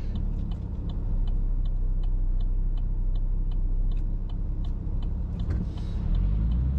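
Inside a car on a rural Wyandot County, Ohio road near a covered bridge, steady low engine and road rumble carry under a regular ticking like a turn signal, while a truck turns off ahead.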